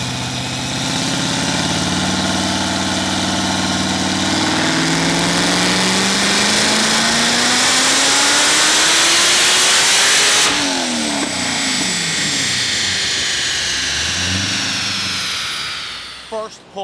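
Supercharged C6 Corvette ZR1 on a dyno with a Stage 5 build and new pulley, its engine rising from idle into a loud sustained wail with supercharger whine, then dropping off sharply as the throttle closes, very close and dominant.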